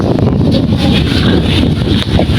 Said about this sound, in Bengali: এখানে অনেক সুন্দর বাতাস